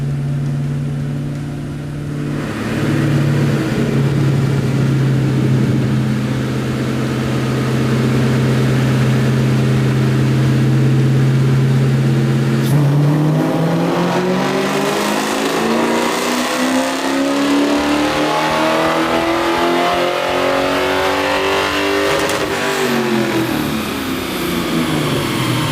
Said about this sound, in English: we're throwing it on the dyno